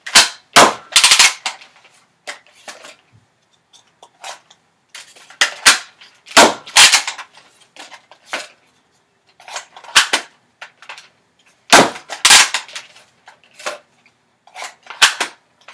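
Up close, a Nerf ZombieStrike Ionfire blaster is loaded and fired again and again: crisp, loud snapping shots and plastic clacks of the priming handle in uneven bursts, separated by short silences.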